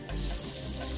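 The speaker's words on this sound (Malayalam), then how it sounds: "ചെറിയൊരു കഷ്ണം ബട്ടർ ഇട്ടിട്ടാണ് ഈ അണിയൻ റോസ്റ്റ് ചെയ്യുന്നത്" Onion roasting in butter in a pan gives a steady, close sizzle that begins abruptly and holds loud and even for a short moment.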